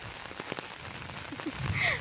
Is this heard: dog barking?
no